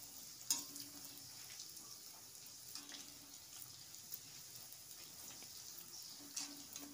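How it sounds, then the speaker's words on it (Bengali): Kochuri, stuffed with korai shuti (green peas), frying in hot oil, giving a faint, steady sizzle with a few soft crackles and pops, close by and alone. "চলো এখন গরম গরম ভাজা হচ্ছে"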